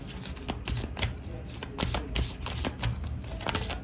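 Tarot cards being shuffled, a close, continuous rapid riffling and flapping of the deck in repeated bursts, with no voices.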